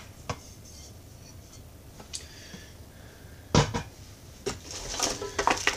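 Copper frying pan lid from a luxury cookware set being unboxed and handled, giving scattered light metallic clinks and taps, then a few louder clatters and rattles near the end, close by and without speech.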